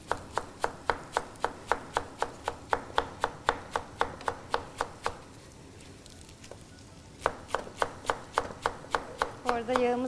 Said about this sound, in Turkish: Çok ince bir şekilde doğramamız gerekecek.